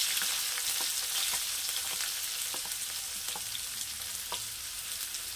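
Chopped onion frying in oil for upma, a steady hiss with scattered crisp pops and stirring clicks, moderately loud and close, with no voices.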